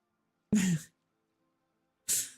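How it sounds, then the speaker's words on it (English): An aardvark in the Planet Zoo game gives two sharp, separate sneezes, each a short breathy burst with near silence between them. "Sneezing her little heart out."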